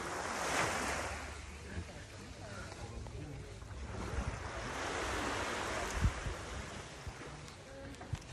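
Sea waves wash against a rocky shore at Hin Ta Hin Yai on Samui in a continuous surging roar with gusts of wind, swelling and easing, with people talking over it.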